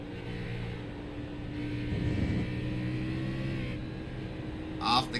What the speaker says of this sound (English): Take a look inside of Bryce Hunter's car. Hear him get on the gas.